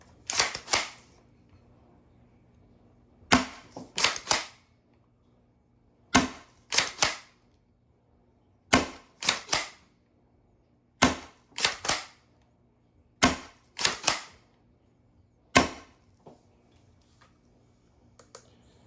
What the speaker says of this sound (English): Unicorn Tactical Edition 1 gram worker darts.